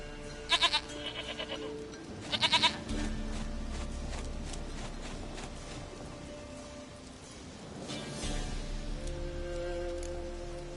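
Goat bleats in The Witcher 3 video game, a couple of short bursts of bleating early on over a steady bed of rain and ambient game noise.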